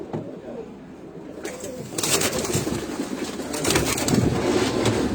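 Caged pigeon pairs cooing together in a loft, a steady murmur of soft low coos that grows busier and louder after the first couple of seconds, with faint rustling beneath.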